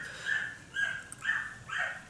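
A dog reacting to a neighbour's two dogs passing the front door: four short whining yips in a steady rhythm, fairly close, with no talk.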